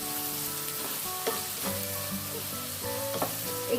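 Onions sautéing over high heat for a Maharashtrian cashew masala, a steady sizzle with occasional soft clinks of stirring, close and moderately loud, no voices.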